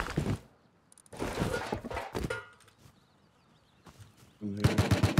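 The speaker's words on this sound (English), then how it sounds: "Nathan shooting them." Bursts of gunfire from the online survival game Rust come in rapid clusters between quieter gaps, with a loud volley closing out, mixed with footstep-like thuds and a voice talking over parts of it.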